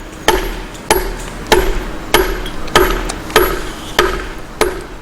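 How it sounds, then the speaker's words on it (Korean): A bush hammer strikes a stone block to flatten its surface, eight sharp, ringing blows at a steady rhythm of roughly one per 0.6 seconds, loud and close with no talk. "석재를 도드락 망치로 두들겨서 더욱 평평하게 만드는데"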